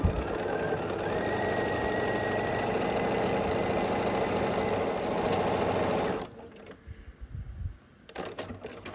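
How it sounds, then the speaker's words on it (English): Sewing machine stitching half square triangle quilt pieces together along the long side, a steady close whirring run for about six seconds before stopping, followed by a few faint handling noises. "you can just sew this together along the long side of the half square triangle"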